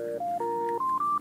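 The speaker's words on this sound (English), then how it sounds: "Answer the phone, Ventress doll." A toy telephone rings with a quick electronic melody of steady beeping tones that step up in pitch in a clear, even rhythm, loud and close with no voices.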